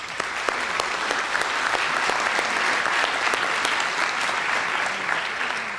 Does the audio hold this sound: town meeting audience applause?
yes